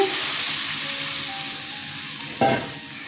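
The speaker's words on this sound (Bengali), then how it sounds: "মশলা কষানো হয়ে গেছে, জল দিয়ে দিচ্ছি।" Spices fried in a pan for a vegetarian Bengali potol and chholar dal dhokar dalna sizzle steadily, with a sudden louder hiss and splutter as water is poured in, heard up close without talk.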